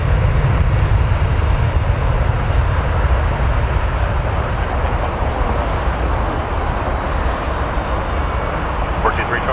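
Jazz flight 884 rolls for takeoff on runway 23, a steady loud jet engine roar with a deep rumbling low end that holds nearly unchanged throughout.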